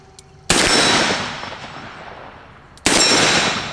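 A Smith & Wesson Model 19 K-frame revolver fires magnum rounds twice outdoors, each shot a loud sharp crack with a long decaying echo, spaced a little over two seconds apart.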